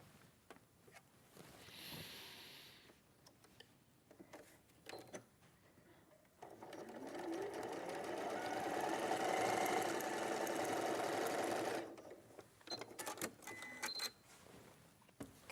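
A domestic sewing machine stitches fabric in a sustained, steady whirring run of about five seconds. Shorter bursts and handling clicks come before and after it, close by, with no talking.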